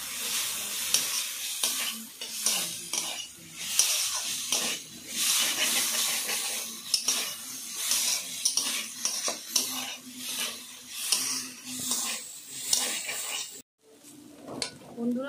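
Onion being stirred with potato and carrot in a pan, with repeated scraping strokes of a utensil against the metal and soft sizzling in between, fairly close and loud, occasionally under a voice talking.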